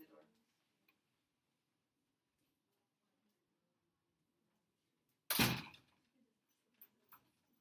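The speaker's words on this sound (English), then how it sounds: "I'm locking the door." A door is locked in a classroom, a single sharp mechanical clack and rattle followed by a couple of faint ticks, close and otherwise quiet.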